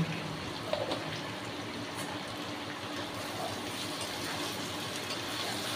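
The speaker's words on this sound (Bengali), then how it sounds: "একটু জল দেব, কারণ গুঁড়ো মশলাগুলো পুড়ে যেতে পারে" Water poured into a pan of Kashmiri chilli powder and ground spices frying for a prawn, potato and papaya curry, giving a steady hiss and sizzle that holds evenly throughout.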